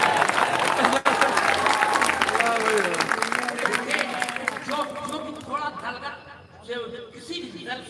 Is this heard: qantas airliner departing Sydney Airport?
no